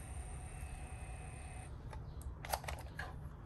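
Typing on a computer keyboard in a quiet shop, a short run of light clicks and taps arriving late and close, with no talking.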